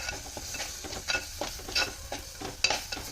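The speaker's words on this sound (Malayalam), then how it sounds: "ഈ സമയത്ത് നമുക്ക് തക്കാളി കൂടെ ചേർത്തിട്ട് ഒന്ന് ഇളക്കി വെക്കാം" Tomatoes are stirred into a frying mackerel curry masala in a pan, with short scraping stirs at an uneven rhythm over a soft, close sizzle.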